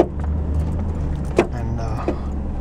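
Pickup truck in four-wheel drive on a rough back road, heard from inside as a steady low engine and road rumble with a couple of brief rattling knocks.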